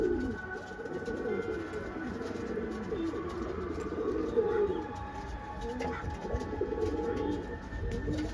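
Pigeons cooing in a loft, a soft continuous low burble of several birds with a few higher chirps, fairly close and steady over a faint background hum.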